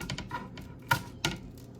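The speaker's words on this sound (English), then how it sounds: "Just going to use scissors. We're going to cut it." A few crisp snips from scissors cutting through dried guajillo chilies, with small rustles and clicks in between, close and fairly quiet.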